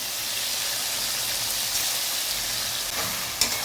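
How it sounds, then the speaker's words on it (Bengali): Poppy seed paste frying in a pan with shrimp and potatoes, a soft, even sizzle that crackles on without pause and is heard alone at low volume. "আমরা পোস্তটাকে কষিয়ে নেব তেল ছাড়া উপর"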